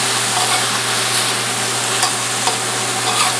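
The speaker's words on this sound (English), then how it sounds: "We'll stir them around now after they've gotten a little sear." Lobster pieces sear in a hot pan for bisque and are stirred around, giving a steady, close sizzle with faint scraping from the stirring throughout, and no voices.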